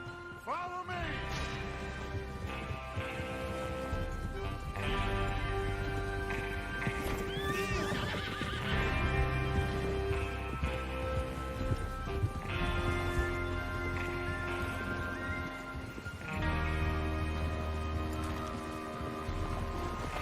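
Horses in the Red Dead Redemption 2 video game, loud whinnies and neighs over clip-clopping hooves and a layered game soundscape, with no talking.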